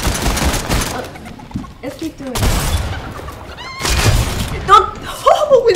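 Gunfire in a video game aimed at a bot during a trick shot, several sharp loud shots and bursts with shattering impacts, mixed with excited voices talking and laughing.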